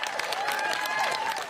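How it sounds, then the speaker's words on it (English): A crowd applauds for NHS nurses, a brief, dense burst of many hands clapping together with faint voices and whistle-like tones mixed in. "We clapped for them, they clapped for themselves."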